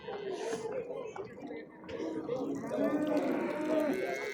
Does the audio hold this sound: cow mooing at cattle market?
yes